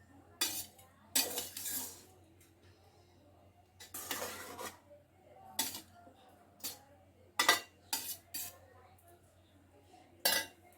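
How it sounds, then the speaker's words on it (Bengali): Home-cooked biryani is turned over and mixed in a pot. A metal spoon scrapes and clinks against the pot in repeated short strokes with brief pauses between them, close up. "উপর নিচ করে মিলিয়ে দিচ্ছি আমি, যতটা পারি মিলিয়ে দিলাম।"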